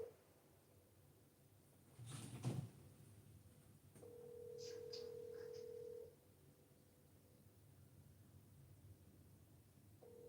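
A phone dials out to place a call: a short burst of beeps, then a steady ringback tone that lasts a couple of seconds, followed by faint line hiss.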